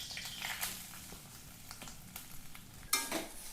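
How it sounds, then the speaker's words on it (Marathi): Grated coconut roasting in ghee in a pan, a soft close sizzle with scraping stir strokes and a sharper clatter near the end. "आता आपण सारणासाठी थोडे तूप टाकणार आहोत. त्यामध्ये हे किसलेले खोबरे टाकणार आहोत."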